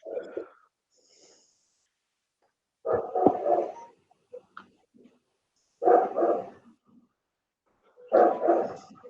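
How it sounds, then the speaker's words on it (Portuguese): A neighbour's dog barks in bursts of several rough, mid-distance barks separated by quiet gaps, with a few short yips in between and no talk over it. "eu tenho um vizinho que tem um cão. Muito barulhento."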